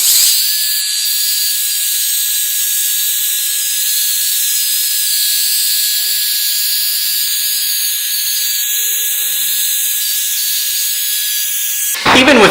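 A drill motor whines steadily at high speed while polishing scratches on windshield glass, a loud, continuous, even tone that runs throughout before cutting off at the end.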